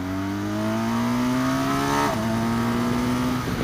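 A 2018 BMW R1200 GS boxer-twin motorcycle revs up hard, its engine note climbing steadily, then drops briefly on a quick-shifter upshift and pulls again, loud and close throughout.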